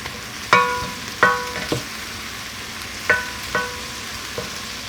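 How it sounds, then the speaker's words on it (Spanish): Onion, garlic and poblano chile sautéing in a pan: a low, steady background with about five sharp metallic clinks of a utensil against the pan, spaced irregularly, with no talking. "Y lo vamos a sofreír. 1 minuto después le agregamos el chile."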